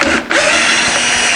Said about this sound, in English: Now I got my drill,